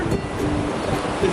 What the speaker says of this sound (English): Did we go in the big waves?